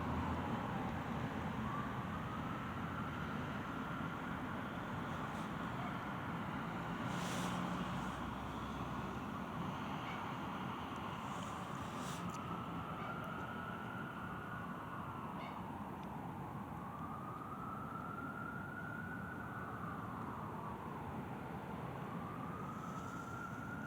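A siren wails at night, rising and falling in slow sweeps at a distance over a constant low rumble of city background.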